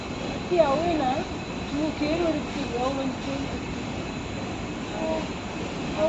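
A train rumbles steadily along with a constant low roar, while people talk nearby over the running noise.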